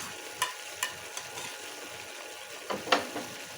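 Pork igado with oyster sauce is stirred in a pan, producing soft scraping taps at irregular intervals over a faint steady sizzle.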